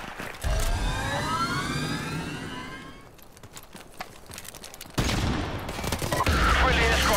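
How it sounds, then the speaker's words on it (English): Video game gunfire and airstrike explosions from Call of Duty: Modern Warfare Remastered: loud broadband bursts and rattling shots that fill the first few seconds, a quieter stretch, then a fresh surge of blasts and fire toward the end. "Friendly airstrike on the way."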